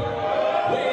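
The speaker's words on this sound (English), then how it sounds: "let me back it up to hear the crowd response to Robbie" Wrestling crowd in an arena chanting and cheering for Robbie Eagles, a dense, steady roar of many voices filling the whole second without a break.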